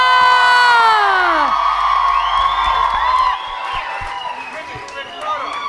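A live crowd at a David Guetta show cheers and whoops loudly for him, with shrill overlapping shouts and scattered claps that ease off slightly toward the end.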